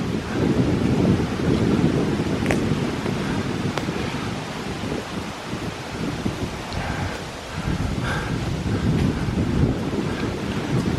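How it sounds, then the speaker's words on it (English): A north wind gusts hard and near across the microphone outdoors, a steady roaring rush with no one talking. "it's windy on this side, isn't it? It's kind of a north wind"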